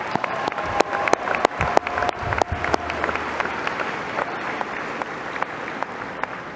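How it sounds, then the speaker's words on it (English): Graduation audience applause at the Eastmont and Wenatchee high schools Class of 2025 ceremony: sharp, scattered claps ring out over a large crowd, strongest at first and then thinning and fading. "Give him a round of applause."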